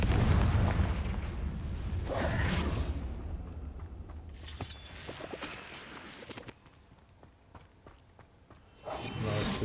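A Confringo fire spell blasts in Hogwarts Legacy, giving a series of booming explosions and bursts that rise and fall in loudness, with scattered crackles between them and no talk.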